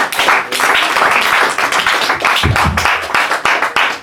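Church congregation claps steadily in quick rhythm, dense and close, with voices rising in acclamation to the Lord and a low thump partway through.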